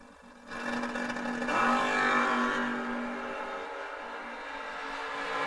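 A drag race car launches and accelerates with a loud, rising engine roar that swells over a couple of seconds, then settles into a steady mid-distance drone. The cars are a Mopar and a Monza at a memorial drag race.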